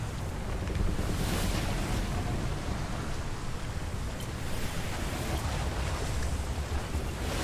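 A sloop sails on ocean waves in the video game Atlas: steady rushing water and wind wash continuously at moderate loudness, with no talking over it.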